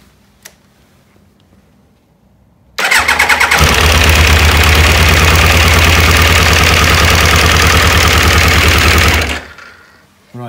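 Triumph Daytona 1200 motorcycle engine cranks and catches, then runs loud and rough on only two of its cylinders for about six seconds before cutting off abruptly, with quiet near-silence before the start.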